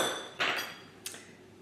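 A whisk knocks twice against a pot of mulled wine with raisins and blanched almonds, giving two brief, bright metallic clinks, the first a little longer, close and fairly quiet.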